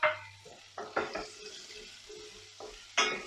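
Chopped rhubarb sizzles in hot sesame oil with asafoetida, with several bursts of frying hiss and stirring scrapes against the pan in an uneven rhythm, close and moderately loud.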